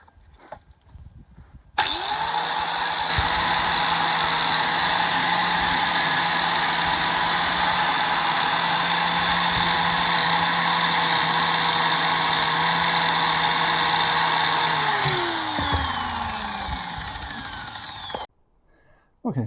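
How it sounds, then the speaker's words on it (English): An angle grinder spins up and grinds down the edge of a weld on a patched Jeep Cherokee KJ chassis, a loud, steady high whine lasting about sixteen seconds before winding down and stopping. "all we're going to do next is grind the edge of the weld down a wee bit, leave it a wee bit neater"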